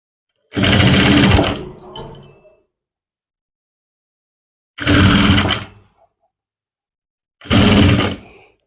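A sewing machine stitches trousers in three loud, close bursts, the first longest at about a second and a half, separated by quiet pauses, with faint clicks of the fabric being turned between runs.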